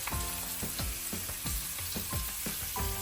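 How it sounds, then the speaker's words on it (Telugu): Chopped onions and chillies sizzle steadily in a frying pan, with a run of quick rhythmic knocks from a spoon stirring against the pan, close by and with no talk. "మనం కట్ చేసిన ఉల్లిగడ్డలు వేసినాం, అవి కొంచెంసేపు ఇట్లా ఇయ్యాలి"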